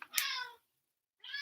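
A cat meows twice, close and clear, with a drawn-out cry, a pause of silence, then a second meow starting.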